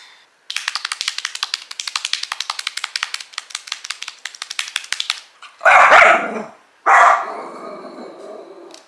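A dog barks in a fast, steady run of sharp, close barks for several seconds, then lets out two longer, louder, harsher bursts near the end, with no talk over it.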